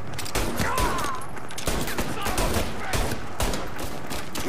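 Bursts of gunfire from the video game Mafia Definitive Edition, several rapid overlapping shots in quick succession, loud and close, with a few faint shouted voices mixed in.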